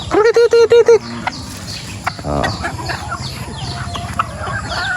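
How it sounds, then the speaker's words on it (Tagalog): Chickens shut outside a netted pen on a farm under coconut trees open with a burst of loud rapid clucks, then keep up fainter scattered clucking nearby. "Ibang manok di makapasok."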